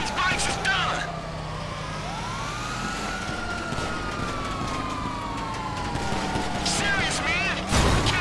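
Gunfire crackles during a Grand Theft Auto V police chase, with scattered shots beneath loud, sweeping police sirens and a steady engine drone.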